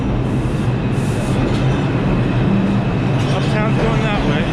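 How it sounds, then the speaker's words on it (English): A Downtown Express 2 subway train rumbles through an underground station in steady, loud low-pitched rolling noise, with faint clicks and brief squeals toward the end. "There is a Downtown Express 2 train"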